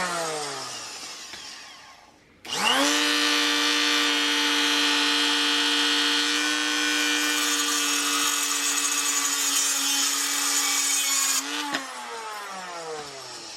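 A power tool cutting a motorcycle axle part for a Sur Ron Light Bee, a loud, steady high-pitched whine that runs continuously for about nine seconds, starts abruptly, and ends as it spins down.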